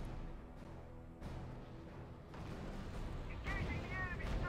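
Gunfire and distant explosions rumble in the strategy video game RUSE as a dense, continuous battle din, with heavy low booms and scattered shots building toward the end.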